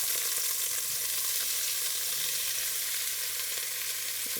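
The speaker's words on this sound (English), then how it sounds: "See if it starts to sizzle." Vegetables sizzling steadily in hot oil during plant-based meal prep, a close, continuous broadband frying hiss with no talking.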